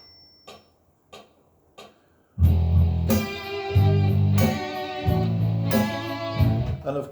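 Four sharp clicks of a count-in lead into an electric guitar playing a harmony part as a series of loud, ringing chords struck at a steady pace, close and unaccompanied.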